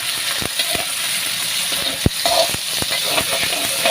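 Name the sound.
frying tungkan meat in a pan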